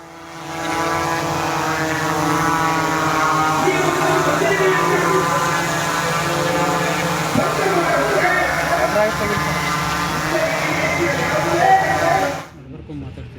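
A police surveillance drone hovers over a protest gathering in Bagalkot, giving a steady, close propeller buzz with a layered whine that holds for about twelve seconds before cutting off sharply. Voices can be heard around it.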